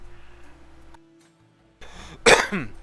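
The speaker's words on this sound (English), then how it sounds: "Sorry, cough." One sharp, close cough after a brief pause, loud and abrupt, followed by a short raspy tail.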